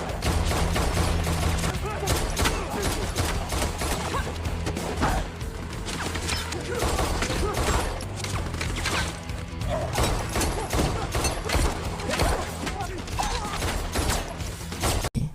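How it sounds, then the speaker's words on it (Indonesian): Rapid bursts of gunfire ring out in a shootout scene from John Wick: Chapter 4 as High Table forces attack, with dense overlapping shots, impacts and crashes under a loud film soundtrack, continuous for the whole stretch. "pasukan High Table pun menemukan posisi John Wick dan tembak-tembakan pun dimulai"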